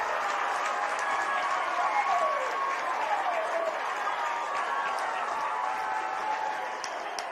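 A crowd at a high school baseball championship game between Lehi and Timpanogos cheers and applauds in a steady, sustained roar after a run scores. The sound carries across the ballpark, and an announcer's voice runs faintly underneath.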